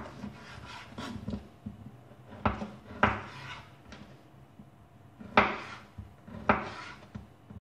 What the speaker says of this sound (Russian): Нарезаю колбаску.